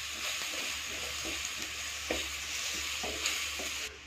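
Chilli and coriander masala for a dried fish thokku frying in a pan, a dense steady sizzle with soft periodic stirring strokes underneath, close up, cutting off near the end.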